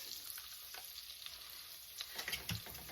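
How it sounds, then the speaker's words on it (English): Three teaspoons of butter sizzle softly as they melt in a pan, a faint continuous crackle with a few small spatters toward the end. "3 teaspoons of butter. Let that melt down like this."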